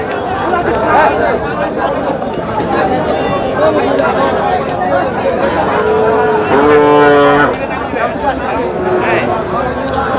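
Cattle at a busy livestock market in Panchagarh, with a loud moo rising clearly over steady crowd chatter and people talking nearby.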